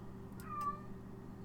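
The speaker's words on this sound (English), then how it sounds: "my cat is howling in the background for some reason" A domestic cat howls once in the background, a brief, faint, drawn-out wail rising over a steady low hum.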